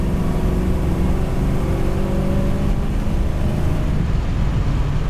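Engine of a 1970 Dodge Challenger R/T with the 383 Magnum V8 droning loud and steady from close by, its deep rumble swelling slightly as the throttle opens, with wind buffeting the microphone throughout.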